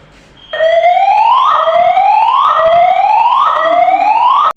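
A building fire alarm sounds during an evacuation, a loud electronic tone sweeping upward again and again in a steady repeating whoop, starting abruptly and filling the space.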